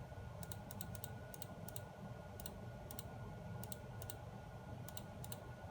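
Keystrokes on a keyboard while entering a password, in short bursts of two to four sharp clicks spread over several seconds against a steady low background hum; no voices.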